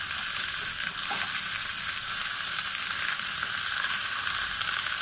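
Okra sizzles and fries steadily in a hot pan while being stirred continuously, a dense, even crackle with no voices over it.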